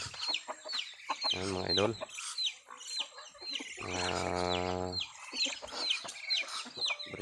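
Labuyo junglefowl roosters and mistiso crosses cluck and make rising crow-like calls near the mic, with two long drawn-out calls standing out among busy clucking and chatter, while someone speaks briefly.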